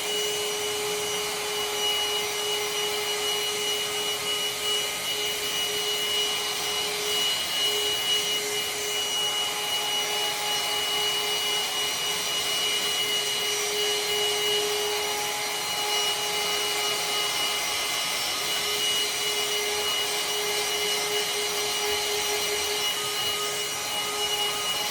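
A Parkside 20V cordless handheld vacuum cleaner runs steadily on carpet, a constant close whirring hum with a high motor whine that barely changes from start to finish and no voices.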